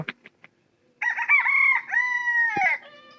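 A farmyard chicken gives a few short, sharp clucks, then a long, loud, drawn-out crowing call that wavers and trails off, close by with no talk over it.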